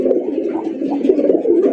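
Pigeon cooing close by, a low throaty repeated coo rolling continuously for under two seconds, loud and alone.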